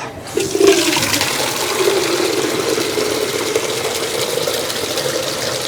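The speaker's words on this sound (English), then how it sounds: "I'm just gonna grab some water to rinse these guys off with" Water runs steadily from a kitchen tap for rinsing vegetables during fall cooking, a continuous hissing flow starting after a brief moment and holding at a fairly loud, even level with no talk.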